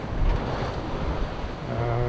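Steady surf and wind noise roar continuously at sea aboard a sailing boat in the English Channel, waves around 1.5 metres, with a low droning hum rising toward the end.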